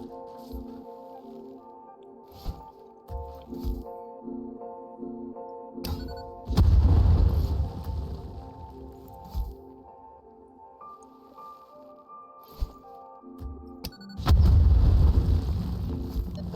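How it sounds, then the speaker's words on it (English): Two heavy explosions go off in a mining video game, each a loud, broad rumbling boom lasting about a second and a half, separated by quieter stretches of steady tonal game music and small clicks. "apparently that didn't delay the explosions enough that it killed these"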